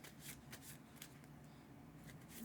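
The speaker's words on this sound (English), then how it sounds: "We have to shuffle the deck." A deck of sleeved game cards is riffled and shuffled close up, soft rapid flapping bursts repeating several times at a quiet level with no talking.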